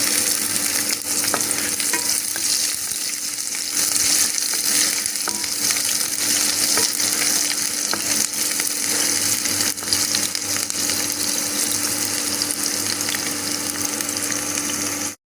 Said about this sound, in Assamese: পিঁয়াজখিনি আধা ভাজি হৈ গৈছে